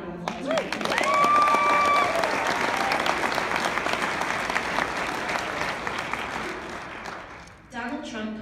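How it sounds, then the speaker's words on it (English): A crowd at a political Lincoln Dinner bursts into sustained applause, loud and dense, with cheering mixed in, fading out near the end before a voice starts speaking. "Let's give him a round of applause"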